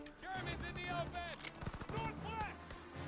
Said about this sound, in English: I guess we should use the grenade launchers now